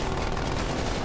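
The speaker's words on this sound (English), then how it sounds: "This stupid sentry gun!" Automated sentry gun firing in Call of Duty Cold War, a dense, continuous roar of rapid shots filling the whole second at steady loudness.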